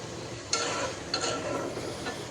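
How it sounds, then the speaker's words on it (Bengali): Dried fish and tomato frying in a pan while being stirred, with a continuous sizzle broken by a few sharp spatula scrapes, close and unvoiced. "এখন এটাকে আমি ভেজে শুকনা শুকনা করে নিব।"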